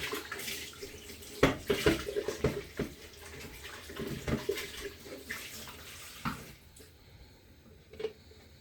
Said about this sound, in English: So I'm just gonna rinse this jug out